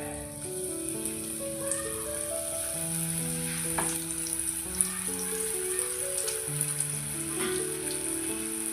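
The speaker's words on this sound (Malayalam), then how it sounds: "ഇനി നമുക്ക് ഈ ദോശയുടെ കഷ്ണങ്ങൾ ഓരോന്നായിട്ട് എണ്ണയിലേക്ക് ഇട്ട് കൊടുക്കാമേ." Pieces of dosa deep frying in hot oil sizzle and crackle steadily, a dense hiss that runs on under a melodic music track.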